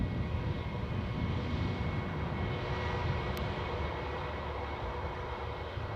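An ATR turboprop airplane at Newcastle airport gives a steady, moderately loud engine drone that holds constant throughout, with no voices.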